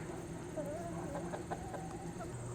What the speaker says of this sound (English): I need to let these chickens out